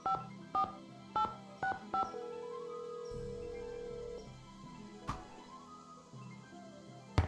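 A landline telephone is dialed in the Nancy Drew game Ghost Dogs of Moon Lake: a quick series of distinct DTMF keypad tones, then a held tone and soft clicks over a quiet background.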